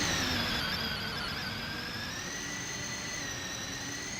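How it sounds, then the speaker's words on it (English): An Airbus A300 jet taxiing past in the X-Plane flight simulator gives off a steady, loud engine whine with sustained high tones that hold evenly throughout, with no talking. "A300 taxiing by."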